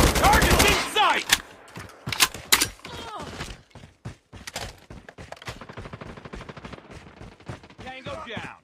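M4 assault rifle fired from the hip in a Call of Duty multiplayer match: loud, rapid bursts of automatic gunfire, with crackling shots running almost continuously and brief game voice lines near the start.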